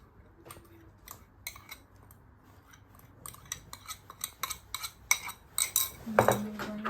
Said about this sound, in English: And then we're going to mix it